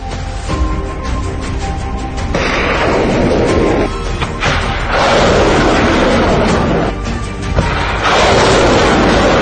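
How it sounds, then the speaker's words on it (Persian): Loud rushing roars of precision-guided missile launches during military exercises on a southern coast, each a sudden burst that swells into a sustained blast, repeating three times. "و لحظه شلیک موشک نفوذی نقطه زن در شرایط جنگ الکترونیک"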